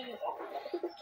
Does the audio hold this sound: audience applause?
no